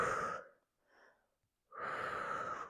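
Audible breaths during an upper-body, low-back-safe exercise: a strong exhale, a faint short breath, a gap of silence, then another long, forceful breath, close and unaccompanied by speech.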